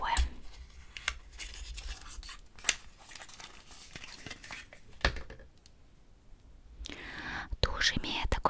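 Close, quiet crinkling and tearing of packaging with small plastic clicks as a Faberlic mascara box is opened, under soft whispered speech.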